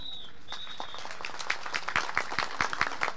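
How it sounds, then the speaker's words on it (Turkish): An audience claps at a wrestling match. The applause is scattered and builds from a few sharp claps into a denser burst, under a faint whistle-like tone at the start. "Alkış yapan elleriniz dert görmesin"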